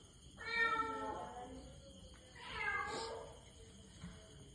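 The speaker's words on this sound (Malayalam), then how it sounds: "കിണറിൽ പൂച്ച ചാടിയിട്ടുണ്ട്, പൂച്ചനെ എടുക്കണം" A cat that has fallen into a well meows twice, two drawn-out cries about two seconds apart, fairly close and clear against a quiet night background with no talking.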